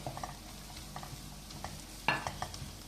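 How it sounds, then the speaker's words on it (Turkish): Julienned peppers stirred into caramelized onions sizzle in a pan, with a steady frying hiss and the scrape and clink of a utensil against the pan, one clack louder than the rest. "Karamelize olan soğanlarımızın içerisine şimdi biberlerimizi ekliyoruz."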